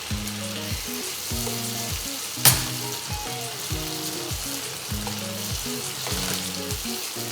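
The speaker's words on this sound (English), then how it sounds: "Now we're going to add some sun-dried tomatoes." Sun-dried tomatoes hit a pan of pesto pasta, a steady sizzle and fry with a sharp burst partway through and stirring heard throughout, close and moderately loud.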